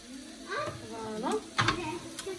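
Sausages sauté in a frying pan at home, with a soft sizzle and a few stirring clatters. Someone talks quietly over the cooking.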